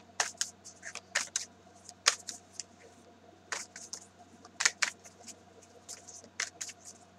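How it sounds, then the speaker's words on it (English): Oracle cards shuffled by hand, a series of crisp, quick riffling and flicking bursts in irregular clusters, close to the microphone over a quiet low hum. "So I cleared and shuffled, so I'm going to get a card."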